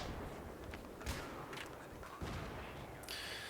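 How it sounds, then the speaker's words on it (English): An AEK-971 assault rifle in Battlefield 3 fires in short bursts split by brief pauses, a quiet, distant clatter of sharp cracks over a low background rumble. "Listen for the pauses when I shoot. There's a slight pause, then shoot again."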